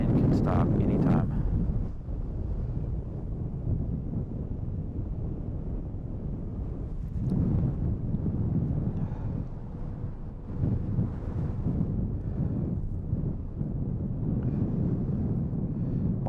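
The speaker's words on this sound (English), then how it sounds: "Oh, big gusts of wind." Strong gusts of wind buffet the microphone outdoors beside an airport, giving a loud, rumbling roar that swells in bursts. A person talks intermittently beneath it.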